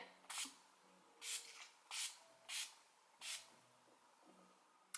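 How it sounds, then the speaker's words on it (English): Five short bursts of Urban Decay All Nighter makeup setting spray misted onto a face, each a soft quick hiss spaced about a second apart, close by in a quiet room. "I just need to spritz my face with my Urban Decay All Nighter Makeup Setting Spray."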